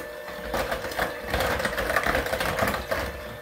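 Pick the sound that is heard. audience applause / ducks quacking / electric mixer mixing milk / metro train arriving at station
electric mixer mixing milk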